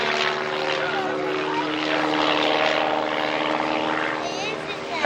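A warbird aircraft performs aerobatics at a 1994 airfield airshow, its propeller engine roaring loudly and continuously with a shifting pitch, while a commentator talks over it.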